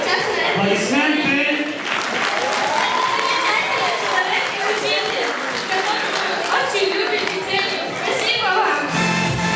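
A school KVN comedy league final in Khasavyurt, 2018: a hall audience applauds and cheers in a loud, dense, sustained wash of clapping, with shouting voices mixed through it.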